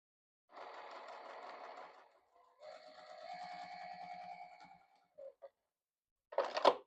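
A sewing machine stitches a quarter-inch seam on a small scrap-fabric hand warmer. Two close bursts of steady motor whir are separated by a short pause, followed by brief clicks and a final sharper clatter.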